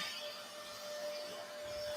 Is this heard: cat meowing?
no